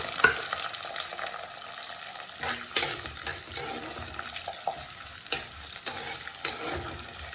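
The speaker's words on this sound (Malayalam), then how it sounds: "കറിവേപ്പില ഇട്ട് കൊടുത്തിട്ട് നമുക്ക് സവാളയും ചെറിയ ഉള്ളിയും കൂടി ചെറുതായി അരിഞ്ഞതും കൂടി നമുക്ക് ഇട്ട് കൊടുക്കാം." Chopped onions and shallots sauté with curry leaves in a pan for a Kerala prawn curry, giving a steady close sizzle with scraping stirs and a few brief bursts louder than the rest.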